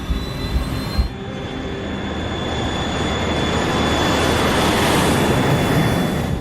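A Sriwijaya Air airliner on its takeoff roll at takeoff thrust, its jet engines building from a roar into a louder, steady rushing drone after a brief thump at the start.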